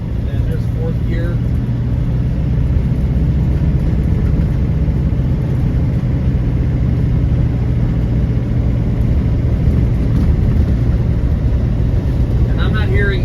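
A 1997 Land Rover Defender 90 with the 300Tdi diesel cruising in fourth gear on snowy roads, a steady low engine drone and road rumble running continuously, heard from inside the cab with someone talking over it.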